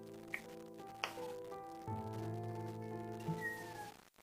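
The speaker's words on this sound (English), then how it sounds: "there's a fucking kitten meowing its fucking head off." A kitten meows repeatedly close by over a busy background of steady tones and game sounds, with several sharp cries standing out.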